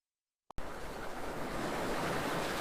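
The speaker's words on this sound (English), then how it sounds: "Methane waves, driven by wind, crashing against the shorelines of these seas" Wind-driven waves of liquid methane crashing against the shoreline of a sea on Titan, rendered as a steady, loud roar of surf that starts abruptly after a brief silence and a single click, then continues without a break.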